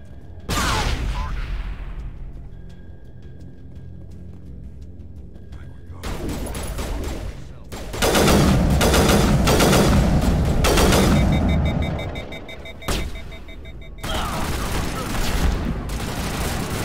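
Sniper rifle gunfire and battle noise in Mass Effect 1 on the Citadel, with loud bursts of shots and booms starting and stopping, some stretches dense with rapid fire, mixed with game sound effects.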